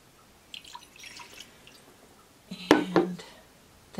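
Cold water is poured into a butter crock in short bursts, a few faint drips and trickles first, then a louder splashing pour near the end.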